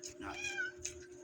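A cat meows once, a short, clear call close by, with faint background noise and no talking, in a household at mealtime.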